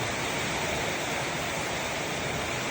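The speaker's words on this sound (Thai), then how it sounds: "ฝนตกมาจากประเทศลาว" Heavy rain pours in a storm sweeping in from Laos over a village in Ubon Ratchathani, a dense, steady wash of noise throughout with no voices.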